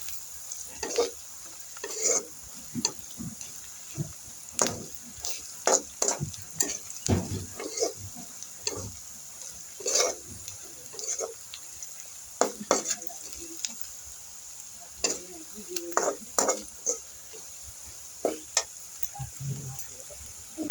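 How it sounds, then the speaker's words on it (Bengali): Onion and garlic frying in a pan for a beetroot dish, with a soft steady sizzle and repeated close scrapes and taps of a spoon stirring, and no talking. "যেহেতু পেঁয়াজ রসুন ফ্রাই করা হচ্ছে"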